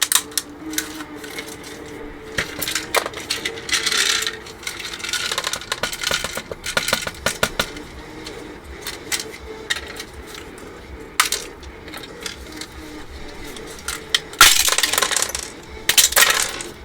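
Small plastic model-kit nuts and bolts from a Bandai Master Grade Heavyarms Gundam drop and rattle onto a hard surface in repeated light clicking bursts, with louder clattering spills near the end and no talking.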